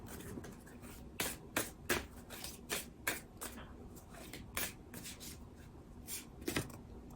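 Wild Soul Oracle cards being shuffled by hand, a series of soft papery riffles and slaps in an irregular rhythm, close and quiet.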